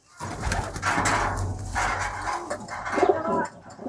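A white-eyed Regdar pigeon, a young male, coos at a house in a few soft, throaty bursts, close by and moderately loud, with some background noise.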